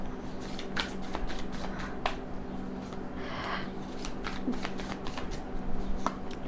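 Tarot cards are shuffled close up in a quiet room, giving repeated quick riffling and slapping bursts with a steady low hum underneath and no talk.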